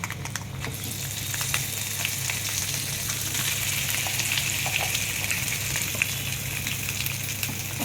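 Curry leaves sizzle in a hot oil tempering for gongura chutney, a steady, close, quiet crackle and hiss with small pops and stirring scrapes throughout.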